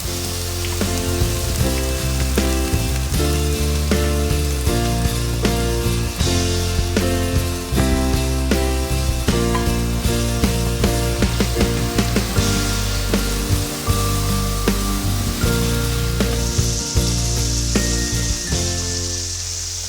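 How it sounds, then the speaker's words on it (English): Steady sizzling and crackling of spice paste frying in hot oil with bay leaves and cumin seeds, under continuous background music. "Now add this to the hot oil where we had the bay leaves and the cumin seeds frying."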